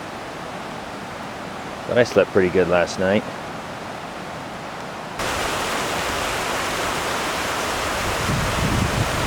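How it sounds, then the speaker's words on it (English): A river rushes beside a mountain backpacking campsite as a constant broadband roar, with someone speaking briefly over it before the rushing grows louder and fills the rest alone. "It's another noisy camp with the river right there."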